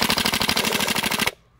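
HPA-powered airsoft M249 machine gun firing a rapid, even burst of about twenty shots, loud and close, then stopping abruptly into near silence.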